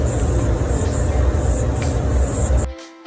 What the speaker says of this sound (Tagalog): Can spray lang ang gamit ko kasi inner lang naman.